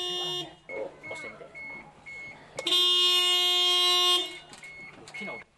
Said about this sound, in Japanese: 運転席のクラクションを鳴らしたりして